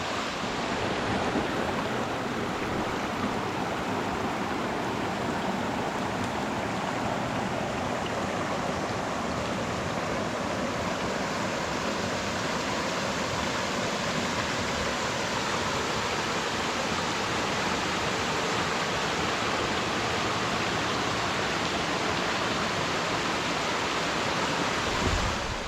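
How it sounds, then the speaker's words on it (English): Rausch Creek waterfall pours steadily in a continuous, full broadband rush of flowing water, close and unchanging for the whole stretch, with no voices. "The sounds of Rausch Creek all night, water flowing."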